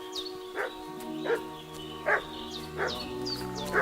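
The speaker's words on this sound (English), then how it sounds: "What's that dog making such a fuss about?" A dog in the medieval game Kingdom Come: Deliverance II barks repeatedly at a steady rhythm, about five or six woofs over a faint background with distant bird chirps, moderately near and without talk.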